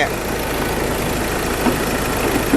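A 2015 Ford Ranger Wildtrak pickup's 2.2-litre diesel engine idles steadily with a dense, rumbling drone, close and loud throughout, with no talking.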